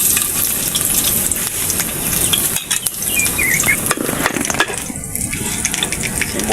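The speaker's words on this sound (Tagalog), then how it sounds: "Magigisa na tayo." Garlic sautéing in a pan for humba of oxtail braised in Sprite, a steady dense sizzle with clinking utensil stirs throughout, no talking.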